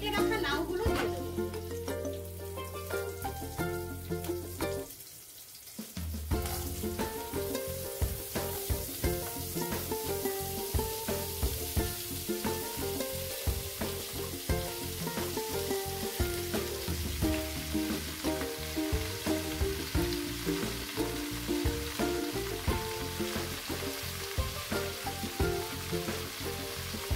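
Chopped bottle gourd frying in hot oil with a bhetki fish head: a loud, steady sizzle with clattering stirring throughout, briefly dipping before surging back.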